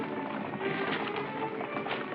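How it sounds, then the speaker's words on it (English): Hooves of horses approaching a coach clatter in a steady, overlapping clip-clop, moderately close, within a vintage film soundtrack with no speech. "Horses."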